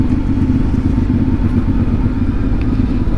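CF Moto 450MT adventure motorcycle riding along a road, a loud, close, continuous low engine drone with wind rumble and no talk.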